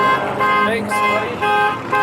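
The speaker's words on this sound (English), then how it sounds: "His car's alarm will not stop going off." A car alarm blares in repeating electronic tones at a drifting event, loud and close, cycling in short bursts while someone talks over it.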